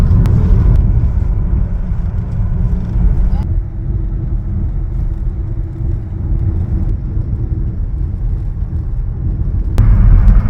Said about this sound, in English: There's traffic again.